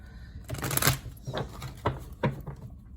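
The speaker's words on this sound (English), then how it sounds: "So let me just shuffle real quick." Tarot cards are shuffled by hand in quick riffling bursts, close by, each flurry followed by a soft tap.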